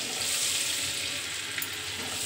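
Butter hisses and sizzles in a hot pan, a steady, close, even frying hiss with no talking.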